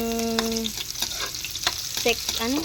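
Garlic and onion sauté in a hot pan with a steady close sizzle, broken by a few scraping stirs of a utensil against the pan.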